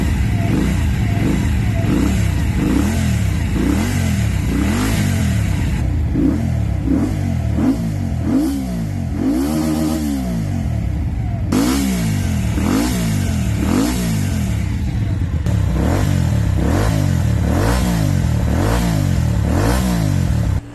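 Single-cylinder engine of a VOGE CU250 motorcycle running steadily and loudly close by, its throttle rising and falling in repeated revving swells with a mechanical clatter and no talking.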